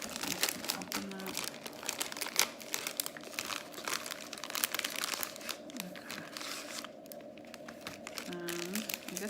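A plastic Popin' Cookin' Tanoshii Ramen DIY candy kit packet crinkles and rustles steadily up close, with a snip or two of scissors, while a person talks intermittently over the handling.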